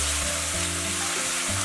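Pork mince stir-fries in a wok with soy sauce, oyster sauce, cooking wine and spicy bean paste, a loud, close, continuous sizzle with brief spatula scrapes over a low hum, no talking.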